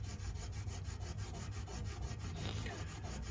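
Steady close-up rubbing on flaked, pitted chrome trim from a 1940 Ford Tudor, a continuous scraping friction that holds an even level for several seconds with no pauses.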